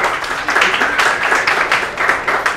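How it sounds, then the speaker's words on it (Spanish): An audience at a talk on logical paradoxes claps in applause for the speaker, a dense, loud, steady burst of many hands throughout with a faint voice underneath. "Un aplauso para Johanny"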